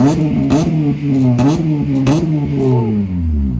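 A loud Honda Civic Type R (FN2) with an aftermarket exhaust revs up and down repeatedly, the exhaust rumbling and climbing in pitch with each throttle blip, with VTEC crossovers.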